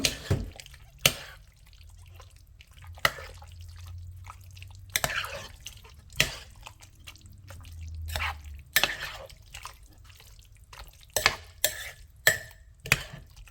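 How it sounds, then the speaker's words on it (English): A spoon stirs gumbo greens and sausage in a crock pot, giving scattered wet clicks and knocks at an irregular rhythm over a quiet background, with no talking. "I'm going to give everything a good stir"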